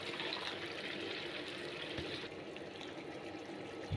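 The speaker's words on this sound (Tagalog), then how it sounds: "Lagyan ko lang siya ng tubig." Water pours and trickles steadily into a pan holding sardines nearby, a soft continuous splashing that thins out toward the end.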